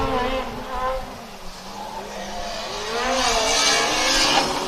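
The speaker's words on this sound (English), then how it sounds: "the sound of the Polish team is so good. I mean, it sounds like a mini Formula One car" Formula Student race car engine during an endurance event, a high-pitched buzzing whine that rises and falls as the car passes along the track, with shifting revs and steady loud presence throughout.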